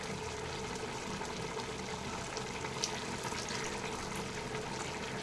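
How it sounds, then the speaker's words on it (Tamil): Leftover rice-cooking water pours continuously into a pot of chicken biryani, a steady splashing trickle close by that stays even in volume from start to finish. "அரிசி வடித்த தண்ணியிலேருந்து நீங்கள் தண்ணி எடுத்து இதில் ஊற்றிக்க போகிறோம் கொஞ்சம் தண்ணி ஊற்றணும்"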